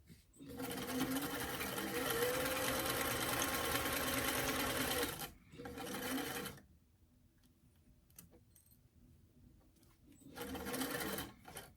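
A sewing machine stitching the seam of a small doll dress runs in a steady, fast whir for about five seconds, then gives a shorter burst, pauses with faint ticks, and starts again near the end.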